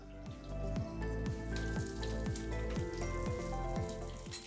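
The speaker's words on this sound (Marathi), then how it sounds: "त्यामुळे मस्त फोडणी अशी तडतडते लसूण हिरवी मिरची" Garlic and green chili drop into hot oil for a tempering and crackle steadily, a soft, close, continuous sizzle with rapid popping spatters and no voices.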